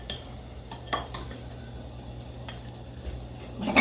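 A spoon scrapes soaked grains from a dish into a small strainer, giving a few light clinks and taps with soft scraping between them, close by and fairly quiet, with no talking.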